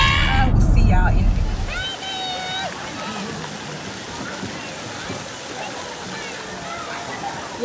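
Water from a big bucket at a water park pours down in a loud rushing crash, then settles into a steady splashing roar, with voices calling out over it.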